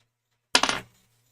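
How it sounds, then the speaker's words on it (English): Small metal fountain pen nibs lifted out of an ultrasonic cleaner in a quiet room, with a brief bright metallic clatter of a few clinks close by, then silence. "Let's get the nibs out of the ultrasonic."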